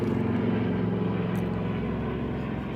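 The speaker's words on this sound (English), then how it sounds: "Helicopter." A helicopter passes overhead in Qatar, a steady, moderately distant low rotor and engine drone that stays even throughout, with no talking.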